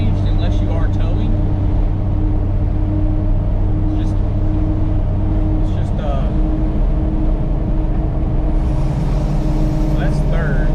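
A tuned diesel truck easing into gentle acceleration in third gear, its engine a loud, steady low rumble heard from inside the cab, with someone speaking over the drone.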